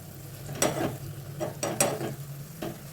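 Garlic, onion, green chilli and curry leaves frying in oil for a dal tempering, a soft sizzle under several distinct scraping stirs and clinks spaced about a second apart, close by.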